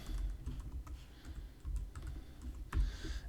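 Fingers typing on a computer keyboard, a quick run of soft clicks in bursts with brief pauses, close and quiet, one sharper keystroke near the end.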